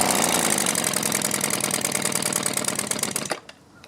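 Small 2-stroke trimmer engine running with a little throttle, a buzzy rapid-fire rattle at close range that holds steady and then cuts out abruptly, leaving near silence.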